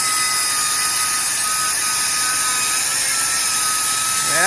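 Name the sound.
grinding down welds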